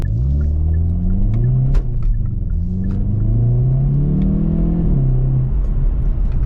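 A 2022 Hyundai i30 N engine revs hard during a drive, pitch climbing through repeated gear changes in a loud, continuous, close roar with no talk.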